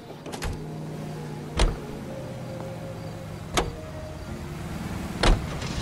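A car in the video game L.A. Noire cruises with a steady low engine hum, broken by three sharp clicking knocks spaced a couple of seconds apart.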